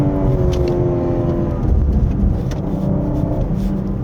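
A 2023 BMW M3 Touring G81 with its 8-speed ZF M Steptronic Sport transmission drives a winding mountain road, engine droning steadily at moderate volume with rumbling road noise throughout and no talk.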